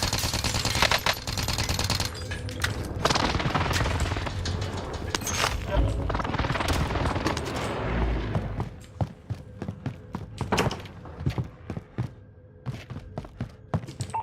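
An allied precision airstrike in a video game hits in a heavy, loud barrage of rapid blasts and gunfire, then thins into scattered impacts and thuds, with voice chatter mixed in.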